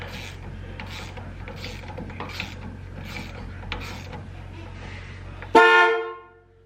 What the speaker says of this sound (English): Cannot stop honking the horn.